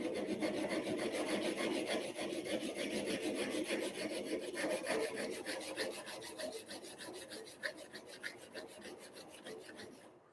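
Knife being sharpened on a diamond stone, a steady rasping rub of steel on abrasive that runs continuously and close throughout, with faint rhythmic strokes toward the end.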